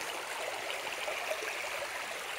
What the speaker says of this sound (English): Little creek running down through here at our site.